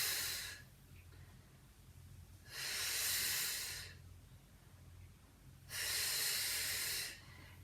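Slow, steady exhalations during a Pilates workout: two long, breathy rushes of air, each lasting about a second and a half, sit well apart over a quiet background hum. They are close and clear, with no talking between them.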